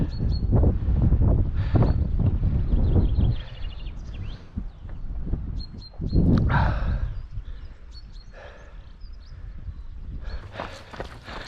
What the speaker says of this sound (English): So just over 7 miles in and we've met up with Lisa and the dogs coming the other way.